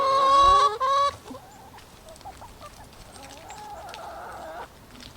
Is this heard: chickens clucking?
yes